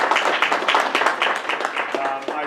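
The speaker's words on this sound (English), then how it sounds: "Let's give Liz one more round of applause." Audience applause for an honoree at a distinguished alumni awards ceremony, a dense patter of many hands clapping steadily with a murmur of voices beneath it.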